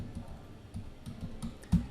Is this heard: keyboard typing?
yes